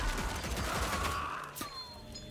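Rapid gunfire in the Evil West video game, a loud continuous fusillade of close shots over a roaring background.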